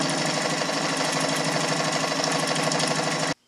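A Kenmore 117.841 sewing machine, made in Germany, stitching with pattern disc two, a loud steady rapid mechanical whir and needle clatter running continuously before stopping abruptly.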